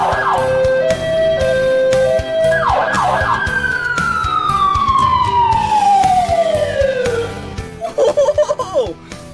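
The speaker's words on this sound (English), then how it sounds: "Check this out down here. The siren." An ambulance siren runs through a two-tone wail, then a rising whoop that sweeps slowly down. It is loud and clear, ending in a short burst of yelp tones, with a lively voice talking briefly near the start.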